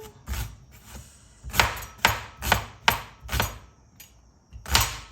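Knife chopping onions on a cutting board in a home kitchen: about eight sharp, evenly spaced thuds, close and fairly loud, with short quiet gaps between them.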